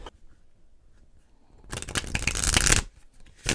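A deck of cards is shuffled briskly in a quiet room, a dense riffling burst lasting about a second, then a softer slide as a single card is drawn, with light handling noise before and after.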